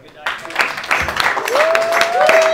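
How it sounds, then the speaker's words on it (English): An audience claps after a stand-up comedy set, scattered applause rising as a voice talks over it. "Wow, we're clapping."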